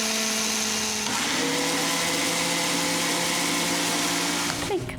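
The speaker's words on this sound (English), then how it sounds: "we gotta hit the blender" A blender whirs steadily through a smoothie, a loud close motor drone with a shifting pitch partway through, winding down at the very end.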